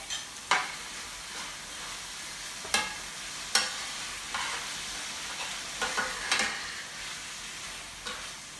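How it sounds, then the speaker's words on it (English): A can of drained diced tomatoes stirred into sautéed onions in a pan for Spanish rice, a soft continuous sizzle with several distinct spoon scrapes and knocks, no voices. "Now I'm going to add the tomatoes, can of drained diced tomatoes."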